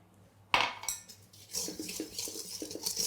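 A cheesecake mixture being stirred with sugar in a bowl: a sharp clink of utensil on the bowl, then a steady run of light scraping and tapping strokes, close and moderately quiet.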